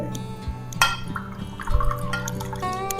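Water poured into a pressure cooker for sambar, about two and a half glasses, with a close liquid trickle and dripping among light metallic clinks and ringing tones.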